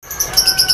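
A murai Medan (white-rumped magpie-robin) songbird sings a quick run of bright, high chirps and whistled notes, close and clear with no voices.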